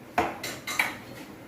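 A nonstick pan set down for making pizza sauce, giving a few short metallic clanks and knocks, close and clear, with no talking.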